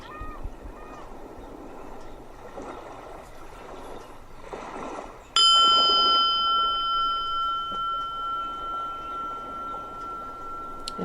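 A meditation gong strikes once midway, its sustained shimmering tone ringing out clearly and decaying slowly over the remaining seconds against a quiet, soft background.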